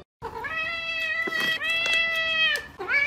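A cat meows insistently up close, several drawn-out tonal cries in a row with short breaks between them.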